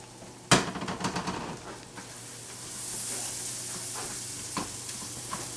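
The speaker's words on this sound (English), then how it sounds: "now I'm just going to saute these up in a little bit of butter" Shallots sautéing in butter in a pan: a sharp clank as they hit the pan, then a steady soft sizzle with occasional utensil scrapes.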